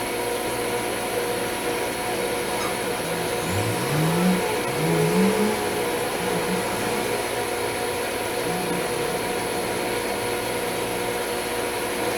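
Pratt & Whitney metal lathe running steadily with the clutch engaged while threading and turning, a constant mechanical hum and whine with a few brief rising groans partway through, close and continuous.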